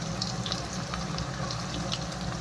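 Tomato dropped into hot oil with fried onions for a Bengali chicken curry gives a steady, close sizzle with crackling spatters.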